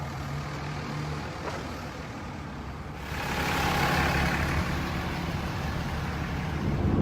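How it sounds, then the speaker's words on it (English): A truck engine turns over and roars to life partway through, then settles into a loud, steady rumble alongside broadband road and traffic noise near Interstate 15. "We can hear Ronnie Van Graal start his truck back there in the background."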